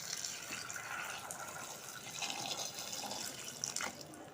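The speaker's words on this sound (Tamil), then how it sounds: "இப்போ 1 கப் தண்ணி ஊற்றிக்கலாம்." A cup of water is poured into a cooking pot of dal with turmeric and a little sesame oil for keerai kootu, a soft, quiet, continuous splashing trickle lasting a few seconds.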